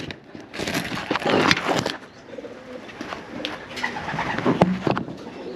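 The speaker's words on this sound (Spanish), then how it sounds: "Tiene mucho carácter esta paloma." A pigeon coos in short repeated bursts close by, mixed with wing flutters and rustling handling noise from a dove kept for sale.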